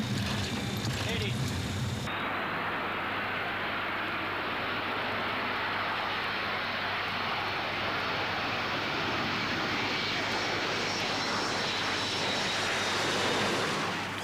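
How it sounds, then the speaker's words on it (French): A tanker aircraft lands on a runway beside a mine in Angola, a loud continuous roar of engine and rushing air that shifts character early on and stays heavy throughout. "le tanker se pose sur la piste qui jouxte la mine"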